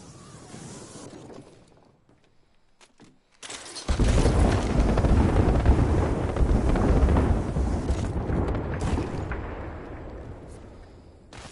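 A heavy burst of airstrike explosions in Apex erupts after a brief lull, a loud rumbling roar that slowly fades over several seconds.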